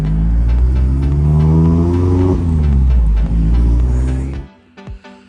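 A Mazda Miata ND MX-5 with a freshly repaired clutch revs hard on a test drive, its engine rising and falling loudly and close, then dropping away into quieter rumbles and clicks.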